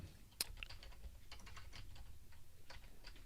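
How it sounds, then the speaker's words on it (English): Close keystrokes on a computer keyboard tap out a short word in a quick, irregular run of soft clicks over a low hum, with one sharper click near the start. "So I'm going to type in yellow"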